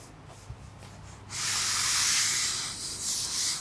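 After about a second of near quiet, a board eraser rubs steadily across a classroom board, producing a loud, continuous, breathy scrubbing that swells and eases slightly as it goes.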